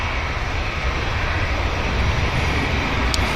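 A Boeing 757 airliner at Manchester Airport produces a loud, steady jet engine roar that holds broad and unbroken throughout.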